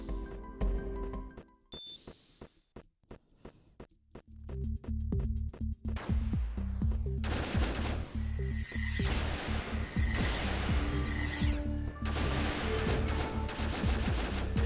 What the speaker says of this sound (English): the charge beam when it hits it is this big explosion